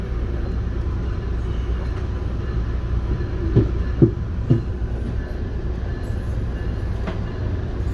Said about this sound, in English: filming a train ride from somewhere in the South Shore to another location in the South Shore